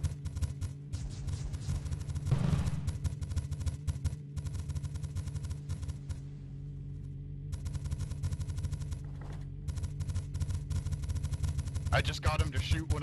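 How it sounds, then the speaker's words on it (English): Video game machine gun fire: quiet, rapid, steady bursts of shots that rattle on through most of the stretch, with a voice talking over them. "Oh, he's got machine guns."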